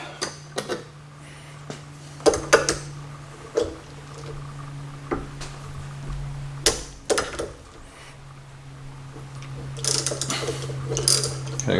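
A hand ratchet works a tight bolt on a 1964 Ford Galaxie steering assist held in a vise, giving scattered sharp clicking bursts with pauses between them over a steady low hum.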